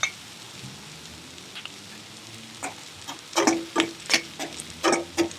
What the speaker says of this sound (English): We're gonna saute these vegetables.